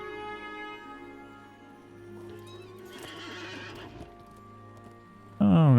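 A horse in the LOTRO fantasy video game neighs with a high whinny over clip-clopping hooves and a sustained musical drone, followed by a sudden, louder burst at the end.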